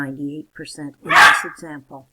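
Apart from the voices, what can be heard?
little puppy barking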